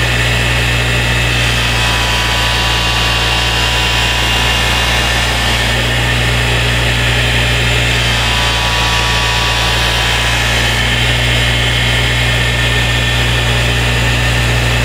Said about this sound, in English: So we'll give them a little buff, and this will put pretty much a final edge on the knife.